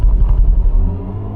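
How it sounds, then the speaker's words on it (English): A BMW i4 M50 electric car in sports mode sounds its synthesized acceleration tone, a loud, deep, pulsing low rumble that swells briefly and then steadily fades. "So you got this weird noise when you accelerate and decelerate, which has been created by Hans Zimmer."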